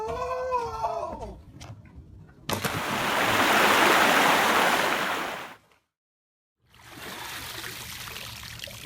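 Water of the Mississippi River flowing, a broad rushing wash that swells loud for a few seconds, cuts out briefly, then returns steadily; a voice is heard briefly at the start.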